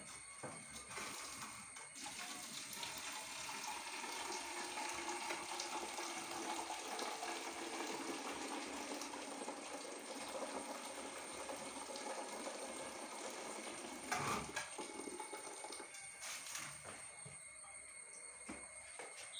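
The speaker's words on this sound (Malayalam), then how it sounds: "കുറച്ചുകൂടി വെള്ളം കളയണം" Starchy water drains from a pot of cooked rice through a partly closed lid, a soft, continuous rushing trickle that stays steady and fairly faint throughout.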